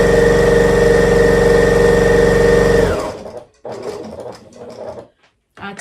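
Sewing machine stitching fabric at a steady fast hum for about three seconds, loud and close, then stopping; faint rustling and handling of the fabric follow.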